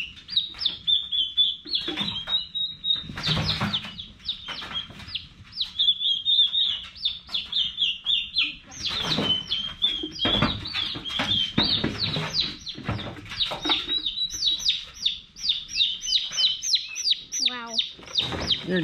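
A busy yard of turkeys and chickens: constant high chirps and peeps with bursts of clucking and scratching, plus occasional voices talking nearby.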